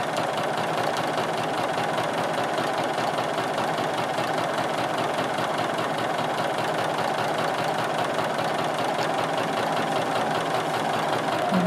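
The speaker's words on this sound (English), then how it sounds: "I'm going to go ahead and quilt up on this grid line." A sewing machine quilting along a grid line on a quilt, a steady close mechanical hum with fast rapid needle chatter running evenly throughout, no voices.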